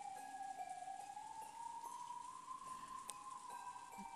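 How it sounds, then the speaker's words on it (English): Rain in the visual novel game Umineko: When They Cry falls as a soft, steady patter beneath a sustained musical tone, with no voices. "Gently, as though someone were mourning for something, rain began to fall."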